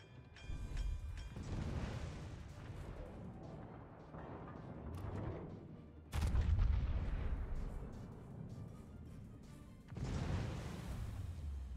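Heavy warship guns fire in a naval battle game. There are repeated deep, booming salvos with rolling rumble and long decays, three big blasts standing out.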